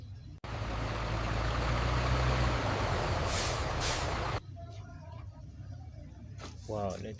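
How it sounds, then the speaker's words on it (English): Toy sanitation truck making a steady broadband hiss like an air brake or engine rumble for about four seconds, then stopping, with someone briefly talking at the end. "this is a sanitation truck"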